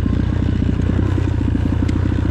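X-PRO Titan 250cc dirt bike ridden over loose, deep gravel, its engine a steady loud throbbing rumble with rapid rhythmic pulsing and gravel clatter running throughout, close and continuous.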